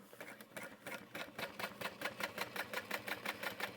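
A sewing machine top stitches through accent vinyl on a bucket bag, its needle hammering in a fast, steady run of close, even beats that gradually grow louder and more regular.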